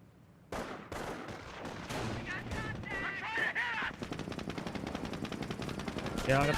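MG42 machine gun in Company of Heroes rattling out rapid bursts amid other gunfire and battle noise, the rhythm of fire quickening toward the end, with someone talking over it.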